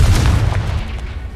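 The Confringo fire spell in Hogwarts Legacy detonates in a deep, rumbling explosive burst that fills the whole moment and then slowly fades, loud and close.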